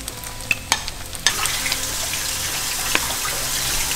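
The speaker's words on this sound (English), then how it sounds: "So you're kind of frying the egg on the outside of the fish" Steady hiss of egg-battered fish frying in a hot pan, with a few sharp clinks and taps early on, close and fairly loud.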